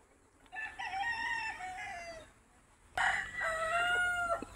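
Chickens bred on a Filipino farm crow and cluck loudly at close range in two long bursts, the second beginning after a brief gap.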